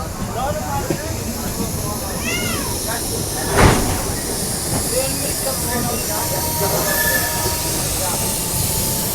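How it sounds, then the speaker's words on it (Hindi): The KSR Bengaluru Rajdhani express approaches from behind on an Indian rail line, a rising rumble and hiss of the train mixed with squeals and ambient noise, heard without clear speech. "अपने पीछे पीछे ना राजधानी आ रही है, KSR बेंगलोर राजधानी।"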